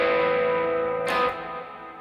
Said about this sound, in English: listen to that analog delay